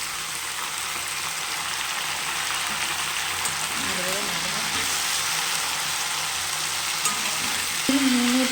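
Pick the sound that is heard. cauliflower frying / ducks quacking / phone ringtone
cauliflower frying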